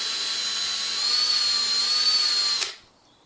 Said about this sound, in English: And then you simply run the drill through the valve like that.